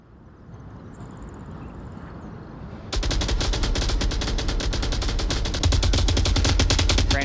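Sustained automatic gunfire in a first-person shooter match, a dense rapid stream of shots that starts abruptly partway through and grows louder toward the end, over quiet game ambience.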